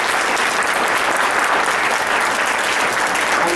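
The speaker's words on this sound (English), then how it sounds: "One more round of applause here for our panel" Loud, dense audience applause for a panel at an all-party education forum in Alberta, a continuous wash of many hands clapping with no pauses.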